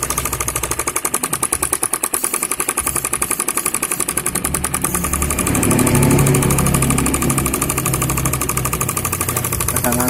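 A homemade miniature diesel-engine air compressor runs steadily nearby, a fast rhythmic chugging knock that stays loud throughout and grows slightly heavier partway through, with no other sounds over it.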